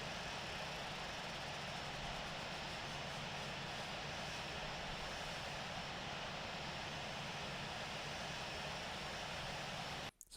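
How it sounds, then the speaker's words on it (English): Airliner engine number two spooling up in the Infinite Flight simulator, a United flight from Houston to Montego Bay; a steady, loud, broadband engine roar holds evenly throughout and cuts off sharply at the very end. "we'll start up engine 2."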